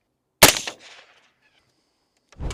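A suppressed 5.56 rifle fires one sharp, loud shot at a concrete barrier, followed by a brief decaying rumble, a short silence, and the start of a second sharp report at the end.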